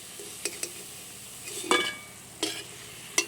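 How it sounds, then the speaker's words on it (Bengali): Lentil dumplings (bori) fry to a reddish brown in a pan while a spatula turns them, with several distinct scraping clinks over a low, steady sizzle. "বেশ সুন্দর করে নেড়ে চেড়ে বড়িগুলো ভেজে নিয়েছি"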